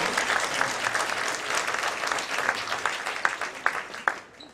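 Steady applause from a church congregation, dense clapping throughout with a few sharper claps standing out near the end.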